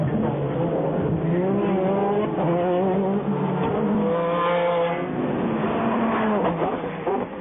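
Toyota Le Mans prototype race cars at the 1999 Le Mans 24 Hours sweep through the S-bends, engines loud and close with rising and falling revs as they brake and accelerate, one passing after another.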